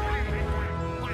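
A flock of ducks quacks in World of Tanks, a brief dense burst of loud honking calls close up, with a voice mixed in.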